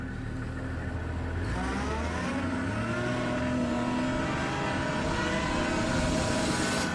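A safari vehicle's engine roars steadily as it accelerates away from a charging buffalo, a loud continuous drone with rising tones and no voices.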